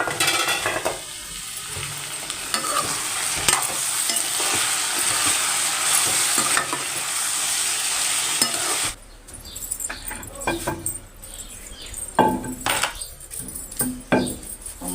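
Ivy gourd (dondakaya) fries and is stirred in a pan, a loud steady sizzle with scraping and clinks that drops off midway into quieter clatter of utensils and pans.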